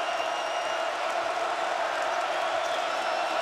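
Arena crowd at a college basketball game in Ann Arbor, Michigan against Ohio State, a steady loud roar of cheering that holds without a break and sits under commentary.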